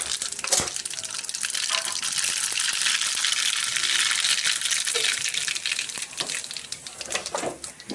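Mustard seeds and cumin crackle and sizzle in hot oil as the tempering for dal dhokli is made, a continuous bright hiss close by with scattered pops and no talking.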